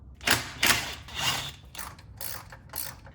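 Ratchet wrench clicking in quick bursts while removing 15 mm bolts from a C5 Corvette transmission cover, close and crisp, several separate ratcheting strokes with short pauses between.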